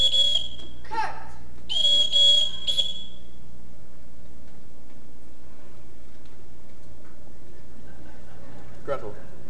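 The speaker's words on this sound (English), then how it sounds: "I won't have to whistle for them" A bosun-style whistle is blown to summon children in a stage production of a musical, a couple of shrill bursts and trills near the start, then quiet room tone with a faint sound later.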